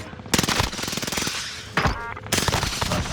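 Rapid automatic gunfire from a Call of Duty-style battle royale match on Fortune's Keep rattles in dense, loud bursts, breaking off briefly in the middle before resuming, with a voice faintly underneath.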